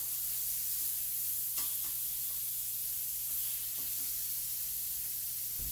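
Hamburger patties fry in a home kitchen skillet, giving a steady, faint sizzle and hiss with a low background hum and a few small clicks.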